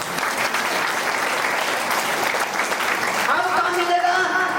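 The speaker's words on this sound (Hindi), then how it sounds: "सभी रूबी के लिए ताली होना चाहिए।" An audience at a marketing training session claps steadily for the Ruby members, a dense continuous patter of applause, with a voice starting to speak over it near the end.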